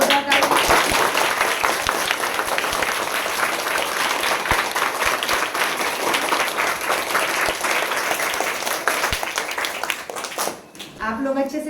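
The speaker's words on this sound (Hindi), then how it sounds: "पहले सभी मेहमानों के लिए और अपने सर के लिए भी बहुत जोरदार तालियां।" Loud, sustained applause from an audience honoring guests at a national teacher award ceremony, dense clapping filling the room for about ten seconds before tapering off abruptly at the end.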